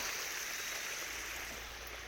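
Well water flows steadily through a drumstick tree garden, a continuous close rushing and splashing wash with no voices.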